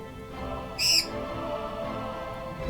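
A parrot in World of Warcraft's Deadmines dungeon gives one short, shrill squawk over a low steady game ambience, with no talking.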